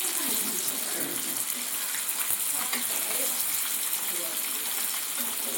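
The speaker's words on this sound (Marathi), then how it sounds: "आता एका बाजूने भाजली आहे मच्छी चांगली व्यवस्थित" Fish frying in a pan for a Konkan-style home meal, a steady loud hiss and sizzle of hot oil throughout, close up and continuous.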